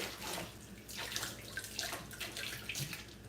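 Running tap water rinsing a bar of soap used for washing makeup brushes, a close, uneven splashing and gurgling stream in a sink with no voices.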